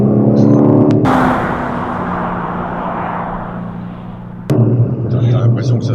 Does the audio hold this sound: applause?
no